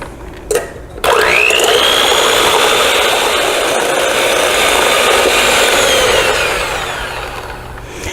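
An electric mixer whipping egg whites for peppermint meringues, with a couple of brief clicks before the motor kicks on and then whirs steadily and loudly at a high pitch, fading slightly toward the end.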